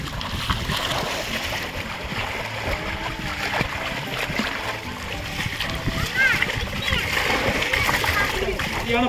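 Bathers splash in the sea at Kanjirangudi beach near Kilakarai in Ramnad district, steady churning and splattering water filling the scene, with voices including children's chatter mixed in underneath.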